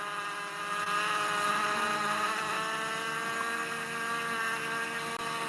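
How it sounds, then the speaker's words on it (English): Honeybee workers fanning to ventilate their hive jar, a continuous droning buzz with a steady tonal hum, close and moderately loud, rising slightly after the first half-second. "This is a funny noise from another jar. Honeybees are making ventilation."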